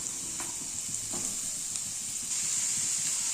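Beetroot pieces frying in a pan give a constant close hiss and crackle, with a couple of light stirring knocks early on and the sizzle swelling slightly toward the end; no one speaks.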